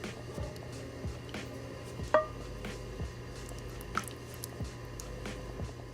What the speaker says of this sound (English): Add all your chili sauce.